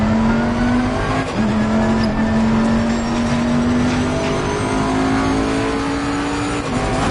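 Race car on a warm-up out lap at Zolder in Assetto Corsa Competizione: a loud, continuous engine drone holding steady revs that climb gradually, with brief dips at gear shifts, close and without talk.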